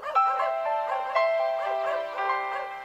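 A dog in a video game cries loudly, a run of high whimpering yelps repeated several times in close, bright succession.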